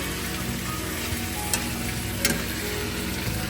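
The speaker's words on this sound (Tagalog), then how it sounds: "Medyo igigisa-gisa natin ng konti." Chicken being sautéed and stirred in a pan for a creamy chicken mushroom dish gives a steady, close sizzle, broken by a couple of brief scraping clatters from stirring, with no talking.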